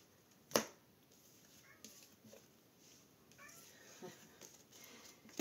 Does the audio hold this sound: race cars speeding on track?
no